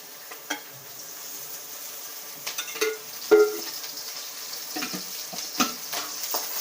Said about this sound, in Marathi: थोडंसं तेल ओतून चांगलं असं लाल होईपर्यंत तळून घ्यायचं आहे